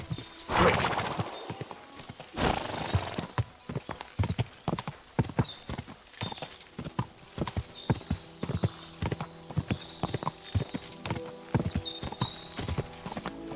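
Horse hooves clip-clop at a steady trotting rhythm throughout in the video game Kingdom Come: Deliverance 2, fairly quiet, with a brief horse whinny near the start.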